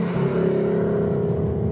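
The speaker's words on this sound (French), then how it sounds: "Le V8, 5 litres toujours, 450 chevaux maintenant, assez sonore" Ford Mustang GT's 5-litre V8 putting out a steady, loud, close engine drone with rich low harmonics, holding a fairly constant pitch throughout with no voices.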